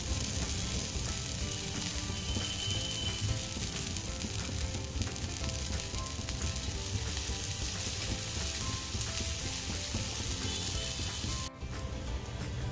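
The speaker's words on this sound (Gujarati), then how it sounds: "કબાબ છે તે એક બાજુથી ક્રિસ્પી થઈ ગયા છે ને ઉલટાવી લીધા છે હવે બીજી બાજુ પણ આપણે તેને ક્રિસ્પી કરી લઈશું" Black chickpea kababs frying in hot oil in a pan after being flipped to crisp the second side, a steady dense sizzle running throughout with a brief dip near the end.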